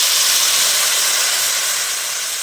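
Water poured into frying spice masala for a rohu fish curry sets off a loud, steady hiss of steam in the pan, continuous and close, fading slightly at the end.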